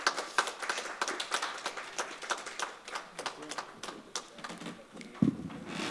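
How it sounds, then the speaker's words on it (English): An audience at a health insurance panel discussion gives a scattered round of applause, separate claps irregular and fairly sparse rather than a dense roar, with a few louder hits near the end. "Please give him a huge round of applause."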